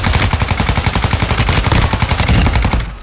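Rapid automatic weapon fire in the Call of Duty DMZ video game, a loud, dense stream of closely spaced shots that continues without pause for about three seconds before cutting off.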